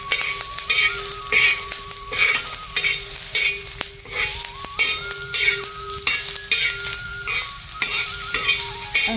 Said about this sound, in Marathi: कांदा भाजतो चांगला आणि मिरच्या भाजत